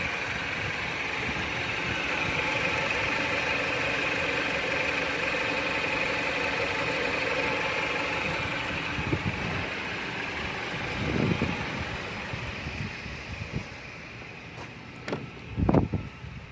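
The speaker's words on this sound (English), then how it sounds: "let the engine run for at least a good 30 minutes so the engine can build pressure." A 2014 Jeep Patriot with a 2.4L engine and automatic transmission, suffering stalling issues, idles steadily at a low hum, with a few brief clunks and knocks toward the end.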